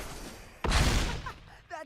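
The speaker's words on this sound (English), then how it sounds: "That's the sound of a stampede coming straight at ya." In the MTG Arena video game, a sudden loud rumbling stampede effect bursts in, a dense thundering roar lasting about a second that fades out as a voice starts speaking.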